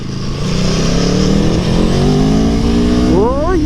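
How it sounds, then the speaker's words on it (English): A 2017 Aprilia Tuono V4 1100 Factory's V4 engine drones loud and close while riding, its pitch climbing steadily, then rising sharply through a quick rev near the end, with wind noise mixed in. "but you can hear that V4. It's different."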